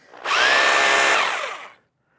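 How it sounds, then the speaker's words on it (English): A power drill driving a large 5/8-inch bit on a lean-to build: one loud, close burst of whining drilling that winds up quickly, holds steady for over a second, then spins down to silence. "First time I've ever used a drill bit this big. It takes a little bit more drilling than them little 1/4-inch drill bits."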